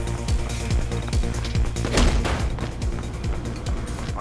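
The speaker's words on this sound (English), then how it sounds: "I can hear gunshots" Gunfire in the video game Mirror's Edge: a steady run of sharp, loud shots cracking every half second or so, layered over a dense, busy background of game noise.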